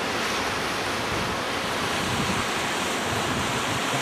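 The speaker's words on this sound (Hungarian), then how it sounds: "Fúj a szél." Strong wind blowing steadily outdoors on a cold, snowy day in Norway, a loud, continuous roaring rush with gusty buffeting against the microphone, no voices.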